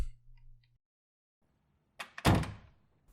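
A door opens and bumps shut in a staged audio drama, heard as a couple of close, muffled thunks after a stretch of near silence, with a faint low hum at the start.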